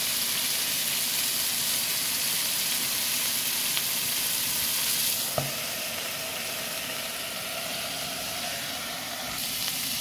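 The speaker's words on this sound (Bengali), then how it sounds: "এখন আলু আর পটলটা ভাজা হচ্ছে।" Potato and pointed gourd fry in a pan with a steady, moderately loud sizzle and hiss, broken by a sharp clack of a utensil midway.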